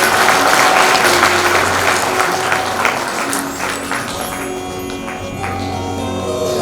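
A crowd at a Bhagavat Katha religious gathering claps loudly and steadily, welcoming the arrival of the Ganga, with a sustained tone and faint voices beneath, the clapping thinning toward the close.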